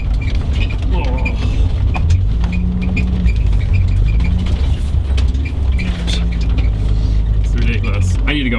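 Car revving hard to drive out of slippery mud, a loud, steady engine drone with mechanical rattles and creaks throughout, close to the microphone, with a voice talking over it at times.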